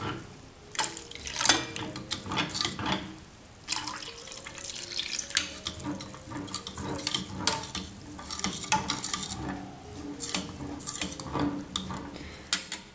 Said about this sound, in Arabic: ونحرك.